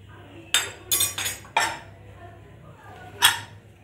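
Metal pots and utensils clink and clatter in a home kitchen while urad dal is prepared, a handful of sharp separate knocks spaced irregularly over a low steady hum.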